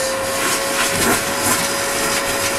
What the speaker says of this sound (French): Donc, commencement, aspirateur.